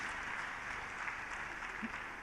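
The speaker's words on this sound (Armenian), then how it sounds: "եք մեր ծափարություններով ուղեկցենք նրանց այս հիասքանչ ծառայության համար" A church congregation applauds the worship team after their performance, a faint, steady patter of clapping from many hands in a large room, continuous for the whole stretch.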